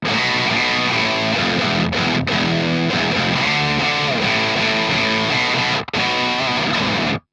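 Distorted bass guitar played through a Victory Kraken MKII metal amp on its gain 1 channel, a loud, dense riff of sustained notes with brief breaks, ending abruptly.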